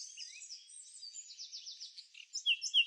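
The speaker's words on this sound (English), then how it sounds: "the musical, white-faced whistling duck" High, thin whistling calls of a white-faced whistling duck repeat in quick, rising series in Botswana's wetlands, growing louder toward the end, heard alone and fairly clear.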